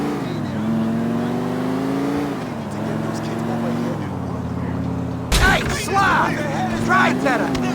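In Grand Theft Auto IV, a car engine revs and strains in rising and falling pitch while driving, loud and close, then a sudden harsher burst of noise takes over near the end as a voice talks over it.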